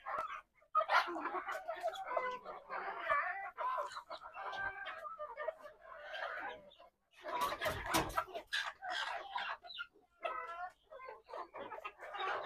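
Native desi hens in a farmyard cluck and squabble in repeated bursts of close, busy calls, with a brief pause near the middle before the clucking resumes.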